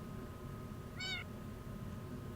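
Cat meowing in the Minecraft video game: a single short, bright meow rising mid-clip over a steady low game-ambience background, with no talking.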